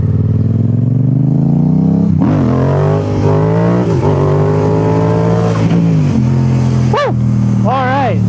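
A rebuilt motorcycle engine roars loudly and steadily through a wheelie, its pitch rising and dipping with throttle changes and climbing in sharp sweeps near the end, close to the listener.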